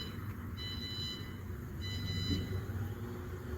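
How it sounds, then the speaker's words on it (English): Faint, high electronic beeps from a reversing truck repeat in two short bursts over a low rumble of traffic and engine noise. "I think that was a truck going in reverse."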